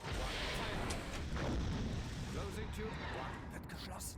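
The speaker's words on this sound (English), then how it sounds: "Torpedo away." A submarine launches a torpedo in the World War II game Silent Hunter 5, producing a rumbling, muffled whoosh and boom with low mechanical noise and a brief synthetic tone, while someone talks over it.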